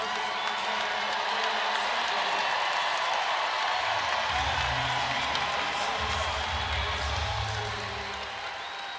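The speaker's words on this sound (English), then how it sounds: "a big round of applause coming here" A steady roar of crowd applause and cheering at an NCAA women's second-round basketball game, Mississippi State vs USC, greeting Malia Samuels' return, with an announcer's voice faintly under the arena noise.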